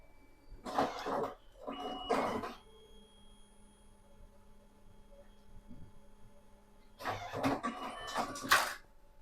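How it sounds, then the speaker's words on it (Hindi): An Evolis Primacy 2 LCD touch card printer prints a single-sided card, giving two short bursts of mechanical whirring near the start and two more near the end, with a steady low hum running between them. "देखिए इमीडिएटली आपका कार्ड प्रिंट हो गया"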